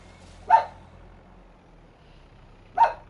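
A farm dog in Farming Simulator 22 gives two single barks about two seconds apart, moderately loud over a low, steady background hum.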